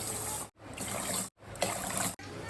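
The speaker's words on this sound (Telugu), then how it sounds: "6 to 7 కప్స్ వాటర్ వేస్తున్నాను" Water poured from a vessel onto washed rice in a cooking pot, a steady close trickle and splash running in three bursts with short breaks between them.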